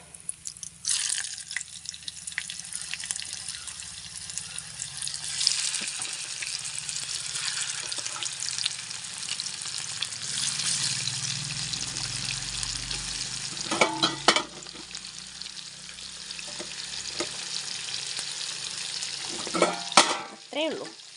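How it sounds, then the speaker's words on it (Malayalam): Chicken fries in a little oil coated with chili and pepper powder, giving a constant crackling sizzle at close range, broken by occasional utensil clatter and a brief splash of water near the end. "നല്ലോണം മുളക് പൊടിയും അതുപോലെ കുരുമുളക് പൊടിയൊക്കെ ഇട്ടിട്ട് ആണ് ഞാനിത് പൊരിച്ചെടുക്കുന്നത്"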